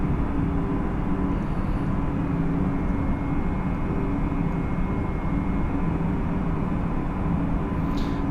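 Steady, loud drone of an airliner's engines in Microsoft Flight Simulator 2020, a continuous low roar with a faint high whine, unbroken and without talk.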